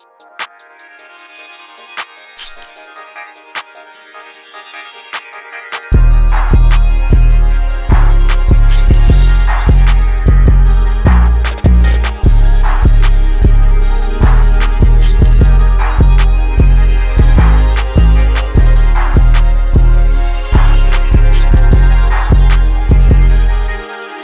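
A plugg ambient type beat plays back at full volume: soft melodic chords open alone, then booming bass and punchy drums enter around six seconds and drive a steady repeating rhythm to the end.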